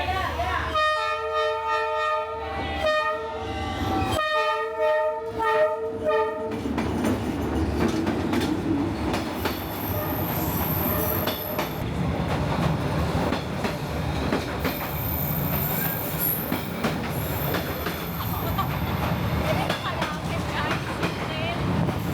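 A train rumbles through a narrow residential street at night on Hanoi's Train Street, with loud horn blasts near the start, then steady rolling clatter of wheels close by, crowd voices underneath.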